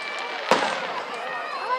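Fireworks bursting outdoors: one sharp pop near the start, then crackling with whistling rising and falling tones, fairly faint amid background voices.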